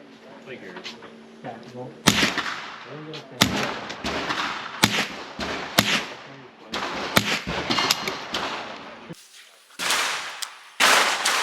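Rapid suppressed .22 gunshots through a Silencer Co .22 suppressor, a string of sharp close snaps at uneven intervals with short pauses between groups, over faint background noise.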